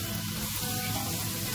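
Spices fry in a pan while being stirred for a Marwari gatta pulao, giving a continuous hissing sizzle at a steady level with no talk over it.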